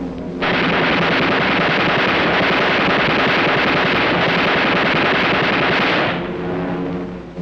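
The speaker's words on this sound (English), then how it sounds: "In formation, the bombers can lay down a deadly pattern of protective fire." World War II bomber formation machine guns fire in a long, sustained rattling burst of about six seconds, loud and dense over a rumbling low background, then cut off abruptly.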